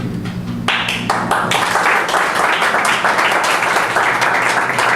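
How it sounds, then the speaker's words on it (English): A class of students applauds together after a lesson, a dense burst of clapping that starts after a brief lead-in and stays loud and steady to the end. "I want to give you all a round of applause because you did great"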